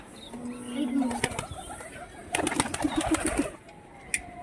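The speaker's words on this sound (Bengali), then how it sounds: "এটা হচ্ছে 3 তলার উপরে পায়রার ঘর আছে।" Pigeons coo in a rooftop loft three floors up, soft low calls near the start and a cluster of coos midway, mixed with clattering sounds and a few faint voices.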